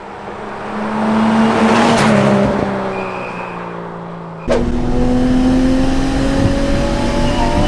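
A 910 bhp big-turbo Nissan R34 Skyline GT-R accelerates hard with a loud, continuous engine roar climbing in pitch. A sharp gear change comes midway, followed by another rising pull, heard from close up.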